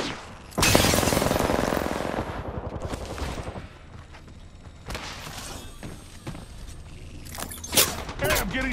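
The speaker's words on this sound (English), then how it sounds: "Getting shot!" Loud close gunfire in the battle royale shooter Apex Legends, a heavy burst of rapid shots at first and then scattered cracks and impacts, with in-game voices speaking partway through.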